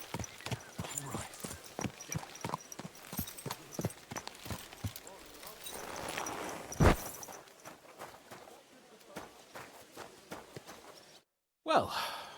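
Horse hooves clip-clopping in Kingdom Come Deliverance 2, a steady rhythmic walking gait of distinct hoofbeats, close and moderately loud, with a horse snort or sigh midway and a brief silence near the end.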